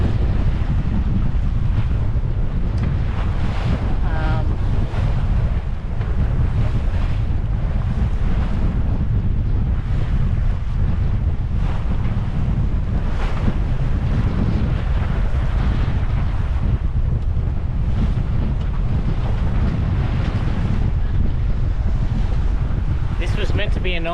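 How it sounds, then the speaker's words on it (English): Strong wind buffets the microphone while waves slap and rush past a small yacht, Crackajack, sailing into roughly 20 knots of wind against the tide near Moreton Bay; a steady, loud, continuous roar with brief spoken remarks. "I didn't think it was going to be 20 knots of wind"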